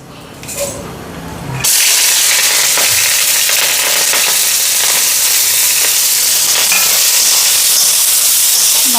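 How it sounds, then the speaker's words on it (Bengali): Cabbage sizzles loudly in hot oil, a steady broadband hiss that bursts in after a brief quieter moment and holds near and constant with faint scraping stirs. "বাঁধাকপিগুলি ভালো করে ফ্রাই করে আমি"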